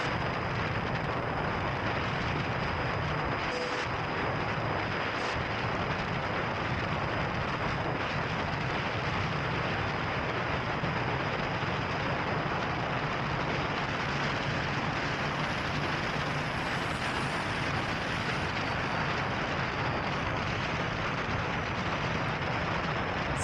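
Habu STS 70mm RC model jet flying overhead at a few hundred feet, a loud, unbroken turbine and ducted-fan roar that holds steady for over twenty seconds.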